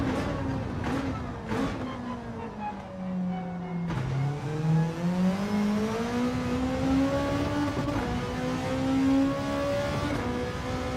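Race car engine in a racing video game time trial, revving hard through VTEC and bouncing off the rev limiter, a loud close engine note that dips and then climbs steadily in pitch, with no talking.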